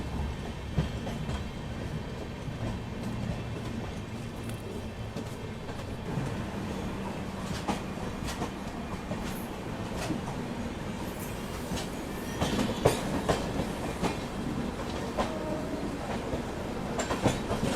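The Amrit Bharat Express, train 13698 running Delhi to Gaya, rolls steadily along the rails with continuous rumble and rhythmic clickety-clack wheel beats, loud and close from on board, with no voices.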